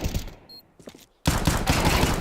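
An AK rifle fires in Counter-Strike during a professional esports match, in a sharp burst of rapid shots that follows a brief quieter stretch with faint game sounds.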